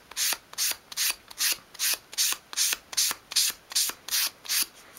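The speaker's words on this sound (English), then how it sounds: "just with a piece of fine grade sandpaper, and just again hold it at an angle and sweep it around all the edges" Fine-grade sandpaper is swept by hand along the edges of a small wooden piece for a 1/12 scale dolls house kitchen island, making a close, even rasp of about eleven regular strokes with no talking.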